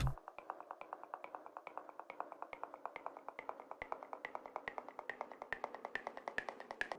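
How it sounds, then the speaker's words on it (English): Rapid, steady series of soft slapping hits of a hand on a body, each a short fleshy smack, repeating in an even rhythm for several seconds at moderate volume. "That's made with a body just sort of slapping the body in different ways."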